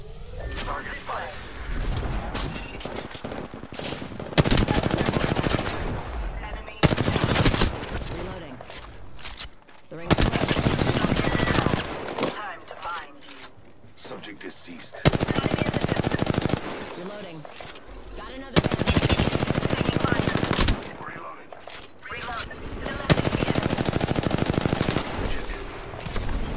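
Bursts of automatic gunfire from the Apex Legends video game come in several loud blocks of a few seconds each, separated by quieter stretches of game sound, with players talking over parts of the action.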